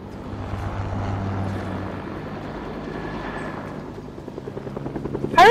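A helicopter in the Fortnite video game whirs with a loud, steady rotor chop that lasts throughout, swelling slightly then easing before a sharp burst of another sound at the very end.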